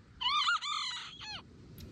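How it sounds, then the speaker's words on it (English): A chicken brought to the beach gives a few loud, close, harmonic calls, two long squawking notes followed by a shorter one, alone over faint background noise. "There's nothing more peaceful than bringing your chicken to the beach."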